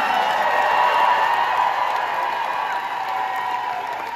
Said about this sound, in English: We give a huge round of applause for our amazing drummer.